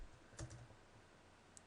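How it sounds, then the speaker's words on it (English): Quiet typing on a computer keyboard, a few soft key taps in a short burst, then a single isolated keystroke, with no speech. "let's just type in something like Alberta"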